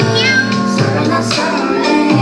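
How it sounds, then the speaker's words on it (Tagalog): A synthesized cat meow sound effect plays for a TikTok live gift, loud and close, with a few drawn-out, tonal meows in a row. "Thank you so much for the AI meow meow."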